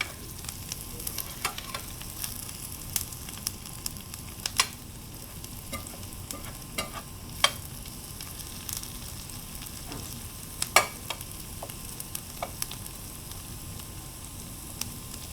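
Onions and garlic frying in browning butter in a single layer, a steady crackling sizzle with frequent small pops and occasional utensil taps, close and continuous.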